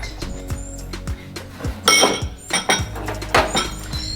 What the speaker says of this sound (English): We're gonna fill this lovely goblet up with some ice, all the way almost to the brim at least.